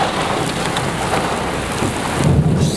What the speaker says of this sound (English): Seriously, seriously active storm.